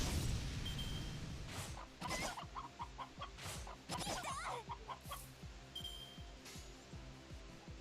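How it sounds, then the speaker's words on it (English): Chickens in the game Fate/Grand Order cluck in a steady run of short, clipped calls, with whooshing and impact effects over a dense, noisy battle backdrop. "You thought we were done with the chickens, but they're back."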